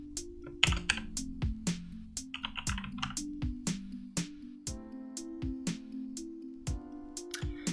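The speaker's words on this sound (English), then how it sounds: "Let me change keyboards real quick because this one is sort of noisy." Rapid clicking keystrokes on a loud, clacky computer keyboard, in uneven bursts, with a low steady tone humming underneath.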